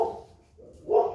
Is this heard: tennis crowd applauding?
no